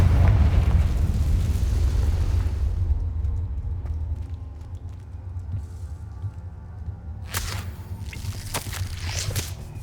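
A fiery Confringo blast spell in Hogwarts Legacy erupts as a loud, deep boom that rumbles and slowly fades over several seconds. Sharp crackling bursts follow near the end.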